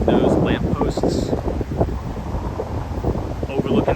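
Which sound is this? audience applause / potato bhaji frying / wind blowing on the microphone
wind blowing on the microphone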